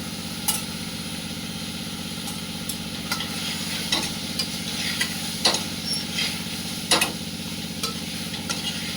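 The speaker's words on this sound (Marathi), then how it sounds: "चांगली तेलात परतून घेतली भाजी." Vegetables sautéed in oil and stirred in a pan, giving a steady soft sizzle with occasional clinks and scrapes of a spoon over a constant low hum.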